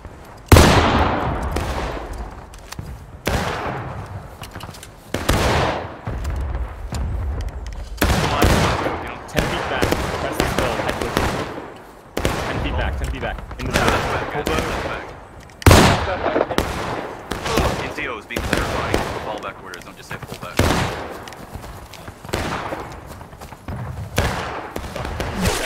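Musket volleys ring out at a shooting gallery in the Civil War game War of Rights, sharp loud cracks fired singly and in ragged clusters at irregular intervals, each trailing a brief echo.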